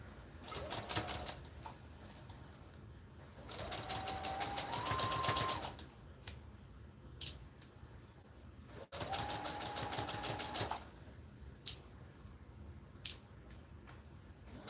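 Sewing machine stitching straight across a fabric headband near its edge: two long bursts of rapid, whirring needle clatter separated by quiet pauses, with a few faint clicks and handling sounds between.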